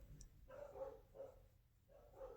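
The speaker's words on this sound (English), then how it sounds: "I had to go put them up in their crates because the barking would just drive me nuts" Dogs barking faintly in the distance indoors, three or four muffled woofs spaced roughly half a second apart over low background hum.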